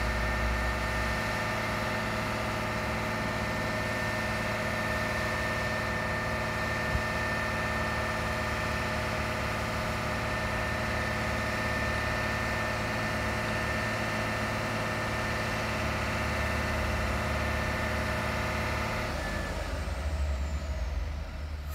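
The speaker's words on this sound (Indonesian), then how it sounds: "Panas mesin dulu bosku ya." A truck engine idles steadily as it warms up, a low continuous rumble held for about twenty seconds before it drops away near the end.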